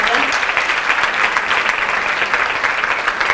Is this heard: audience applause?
yes